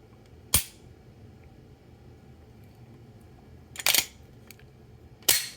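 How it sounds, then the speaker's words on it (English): Three sharp, isolated dry-fire trigger clicks from an unloaded pistol, a Glock 19X or a Walther PDP, spaced a few seconds apart. The first comes alone, the second is a quick double snap, and the third is crisp and close, with a quiet room between them. "That's why I just dry fire it."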